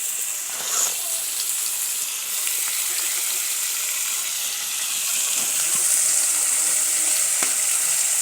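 Onions frying in a pan in an African village kitchen, a steady dense sizzle running throughout at close range with no talk over it.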